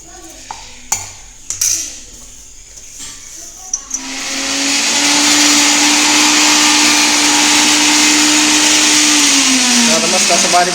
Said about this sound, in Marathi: सगळंच बारीक करून घ्यायचं मिक्सरमध्ये